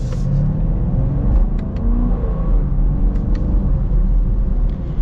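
A 2024 Chevy Camaro LT1 V8 rumbling from inside the cabin while driving in sport mode, a deep steady low growl with mild revving swells and a few faint clicks, no talk.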